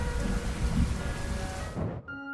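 Steady rain pours down on a street, a dense, close hiss of drops hitting the surface that cuts off abruptly near the end.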